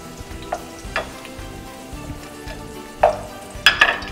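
Potatoes fry in hot oil with a steady close sizzle, and several sharp clinks and scrapes of a utensil stand out near the end.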